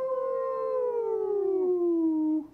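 A single long, sustained wolf howl rings out clearly and fairly loudly, holding its tone and then sliding slowly downward for over two seconds before ending abruptly, with no talk.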